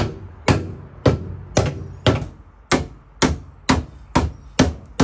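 Steady hammer blows on the fender guards of a Nissan 180SX Type X, about ten sharp, loud strikes roughly half a second apart, close by with no talking.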